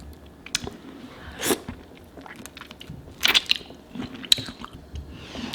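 Close, crisp bites and chews on shrimp at a seafood boil with king crab: a few sharp crunches and wet mouth sounds come in irregular bursts against a quiet room, with no talking.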